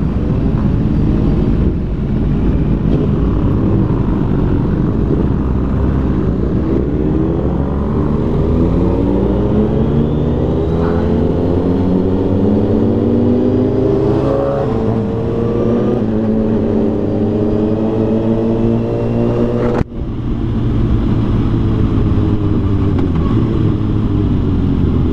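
A BMW motorcycle passes nearby on a road used by riders returning from the mountains. The engine note climbs as it approaches, then sweeps down in pitch as it goes by, loud and steady, with no talk.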